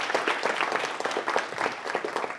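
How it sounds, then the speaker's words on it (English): Audience applause at a city council meeting, a short burst of steady clapping from a modest crowd in an indoor chamber, moderately distant and alone. "let's give them a round of applause"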